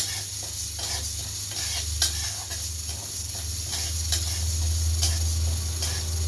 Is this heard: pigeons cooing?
no